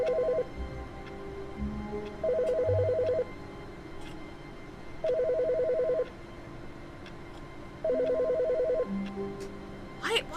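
A telephone in The Stanley Parable rings in four evenly spaced bursts of a trilling electronic bell, loud and clear against a quiet room tone.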